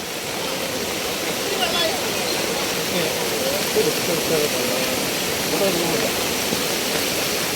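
Loud, steady roar of rushing floodwater fills the whole stretch, a dense broadband wash with no breaks, close and powerful, as the flow breaks up a road.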